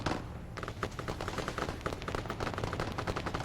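Rapid automatic gunfire rattles in Arma 3, a dense, fast string of cracking shots after a brief lead-in, fairly loud and unbroken, with no voices.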